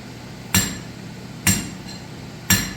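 A blacksmith's rounding hammer strikes hot metal during a basic upset, giving three sharp, ringing blows about one second apart, each fading quickly over a steady background hum in a forge shop.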